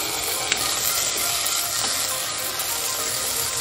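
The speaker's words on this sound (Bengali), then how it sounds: "এই তেলের মধ্যে দিয়ে দিচ্ছি আলু" A medium-sized potato fries in hot oil, giving a constant, moderately loud hissing sizzle with one small sharp tick near the start and no voices.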